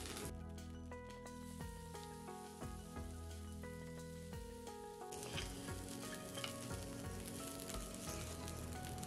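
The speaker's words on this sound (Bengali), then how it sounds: "এবার দিয়ে দিচ্ছি এই জল ঝরানো গোবিন্দভোগ চালটা।" Drained Gobindobhog rice sizzles steadily in a pot of hot fat for a Basanti pulao as it is stirred, a continuous close crackle with scraping stirs and soft music underneath.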